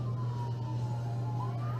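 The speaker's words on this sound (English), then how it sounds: "Here comes another ambulance." An ambulance siren wails along the Las Vegas Strip, its rising and falling tone sweeping over a loud, constant low engine drone from a nearby idling vehicle, with no voices.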